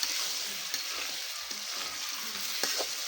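Cauliflower and potato curry fries in a pan with a steady sizzle, broken by several soft scrapes and knocks of a spoon stirring, close and moderately loud.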